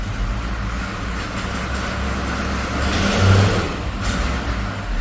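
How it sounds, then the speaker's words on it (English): A GMC truck engine runs steadily and is walked up in revs, a close, continuous low rumble that swells briefly before settling back toward idle. "it actually wants to rev, which is pretty good"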